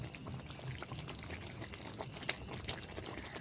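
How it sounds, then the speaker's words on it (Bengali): Mutton (goat offal) curry bubbling as it boils in a pot, a faint steady simmer with small pops and soft liquid bursts throughout, no voices. "দেখো ভালো মতন করে ফুটে এসছে।"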